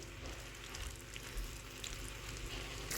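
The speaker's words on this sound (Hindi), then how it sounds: "अब मैं इसमें ऐड करूंगी 2 टेबलस्पून जिंजर गार्लिक पेस्ट, और इसको अब मैं भूनूंगी" Ginger garlic paste, two tablespoons, frying in a pan for tawa kaleji, giving a steady soft sizzle that swells slightly near the end, close and alone without talking.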